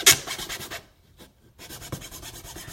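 Hand filing or sanding of a model with a file or sandpaper, heard as rhythmic rasping strokes, close and moderately loud, pausing briefly midway before the scraping resumes.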